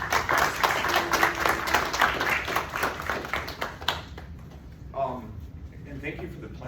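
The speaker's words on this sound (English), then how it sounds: "One more round of applause." A small class audience gives a round of applause with brisk close claps for about four seconds, and voices start talking as it fades.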